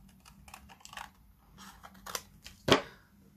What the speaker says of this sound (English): But we are still going to cut them out.